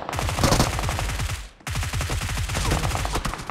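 Steady rapid automatic gunfire in a PUBG-style battle royale game at Pochinki, loud and continuous with a brief break in the middle.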